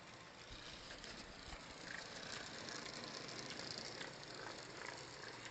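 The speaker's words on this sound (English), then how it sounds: "Bad news is the tick sound has not gone away" Faint, steady ticking and whirring from a motorised Hornby APT model train, a small regular mechanical tick running alone throughout with no voices.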